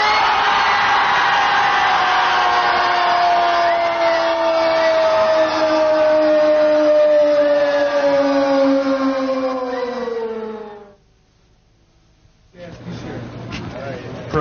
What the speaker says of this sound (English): God has inspired these people to scream with me on the count of 3